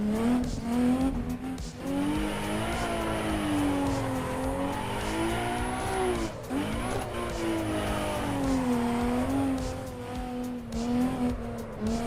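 A race car drifts in Assetto Corsa EVO, its engine wailing and rising and falling in pitch while tires squeal continuously through the slides, loud and sustained with a brief dip mid-run.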